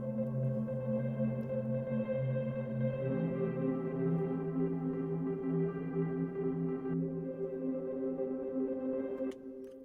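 Northstar pad from the Spitfire Labs Glass Piano instrument, a sustained, glassy synth chord with steady layered tones that shift pitch partway through, holding smoothly for about ten seconds before cutting off.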